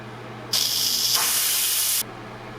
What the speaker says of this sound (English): Once the pressure cooking is done, you'll do a quick release of pressure.